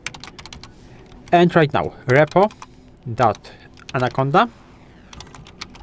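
Computer keyboard typing a web address, rapid clicky keystrokes heard close up, interleaved with someone speaking throughout.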